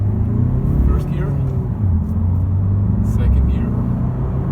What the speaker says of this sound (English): I just give the car a little bit of throttle as I drive away